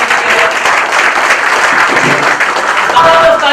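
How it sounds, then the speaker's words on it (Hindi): Loud, dense applause from a seated audience at an Indian training seminar, continuous clapping filling the room with faint voices and a brief tone mixed in. "थैंक यू सो मच, जोरदार ताली होनी चाहिए"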